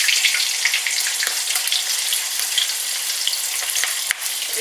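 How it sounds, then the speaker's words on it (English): Chicken drumsticks sizzle and spit steadily in an uncovered frying pan of hot oil, a dense continuous crackle close by with no voices over it. "We're going to put the first bit of the chicken drumsticks in so you can see them cooking as well."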